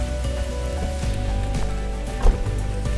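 Rain falling at Pradhanpat waterfall picnic spot in Deogarh, Odisha, a steady dense patter on surfaces with one brief louder knock, heard alone without talk.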